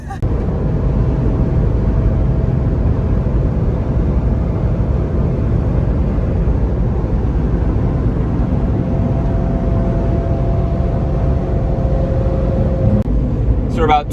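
A Tesla Model S Plaid accelerates hard, a loud, steady broadband drive and road roar with a rising whine near the end, filling the whole recording close to the microphone.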